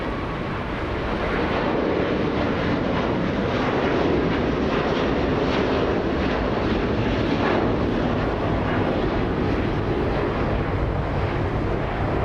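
Airliner at Los Angeles International Airport accelerating down the runway toward rotation for a flight to Doha, a steady, loud broadband engine roar that builds and holds throughout with no talking.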